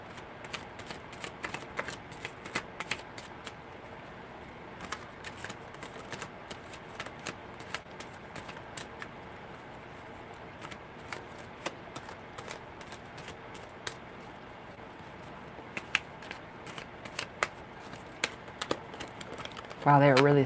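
Sticky tarot cards are shuffled by hand in a steady run of riffling and clicking bursts lasting about twenty seconds, close and clear, with a louder thump at the end.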